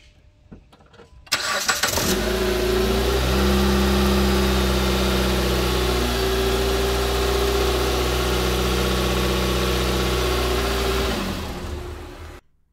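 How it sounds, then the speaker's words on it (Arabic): A car with a battery warning light fault cranks and starts, then settles into a steady, loud idle for about nine seconds before shutting off. "زي ما شفتوا السيارة عم تشتغل"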